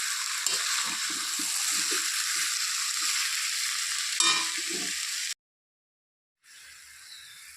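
Spice masala for chicken curry sizzles loudly in hot oil as it is stir-fried, a dense steady hiss with scraping stirs and one sharp clang, then a brief cut to silence before the frying resumes more quietly.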